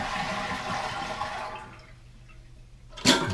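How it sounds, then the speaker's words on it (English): An American Standard Vormax toilet flushes with a loud rushing swirl of water that tapers into a quieter trickle, followed by a sharp clunk or splash near the end. "And then we'll flush just to get all the water out."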